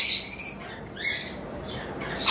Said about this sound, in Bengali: এখানে কাঠঠোঁট ফিঞ্চ রয়েছে একটা পেয়ার